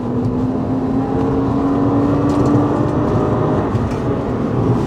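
A Honda Accord V6 engine pulling hard on a twisting back road, a loud steady drone with a rising engine tone heard from inside the car.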